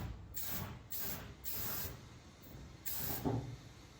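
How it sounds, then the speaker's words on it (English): Air blown through the fuel tank line of an XE Ford Falcon, a barn find untouched for 13 years, comes as four or five short hissing, sputtering bursts separated by brief gaps, fairly close but quiet. "Hopefully I can hear air coming out of the tank."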